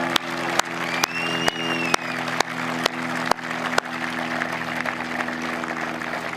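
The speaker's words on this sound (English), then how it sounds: "Won't you join me in applauding for the first time the class of 2023, Esther Vergeer and Rick Draney." An audience applauds the 2023 Hall of Fame inductees at an induction ceremony, steady crowd clapping with a low hum and periodic sharp camera-like clicks, no speech.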